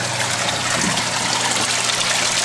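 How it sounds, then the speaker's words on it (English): Water draining from a bell siphon into an aquaponics sump, the fifth stage of a five-stage filter, a steady close trickling and splashing that continues without pause. "The drain of our bell siphon goes to our sump, which is the 5th stage of our 5-stage filter."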